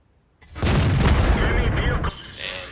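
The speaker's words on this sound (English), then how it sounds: "And the SU-122-44 put another shot into my tracks." SU-122-44 tank cannon shot striking a tank's tracks in a game: a loud, close boom that surges and holds for over a second, then fades into a rumbling tail, with a voice speaking over it.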